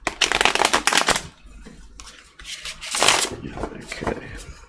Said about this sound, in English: Hopefully the noise of that shuffling isn't too bad.